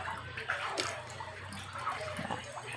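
Dishes being washed by hand with water after a meal: soft splashing, trickling and light clatter close by, fairly quiet and continuous, with no talking.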